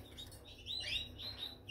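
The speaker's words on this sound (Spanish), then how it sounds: "Mira que hay tres pajaritos de aquí también." Small pet birds chirp softly, with thin high tweets rising and falling in quick clusters over faint background hum.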